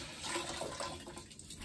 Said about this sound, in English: Rinse the sponge a lot,